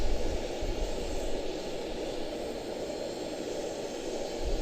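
A Boeing 777-200 jet airliner with a 26-year-old airframe, heard at Charlotte-Douglas International as a steady, broad jet roar that stays loud and even throughout, with no voices.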